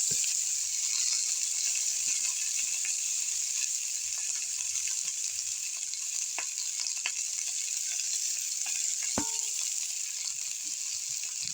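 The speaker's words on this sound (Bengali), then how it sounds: "কড়াতে আমি একটু তেল দিয়েছি, তেলটাও গরম হয়ে গেছে। এতে আমি সমস্ত সবজিগুলো ঢেলে দেব।" Vegetables poured into hot oil in a wok sizzle in a bright, steady hiss, with a few clicks and a sharp clatter partway through, close and with no talking.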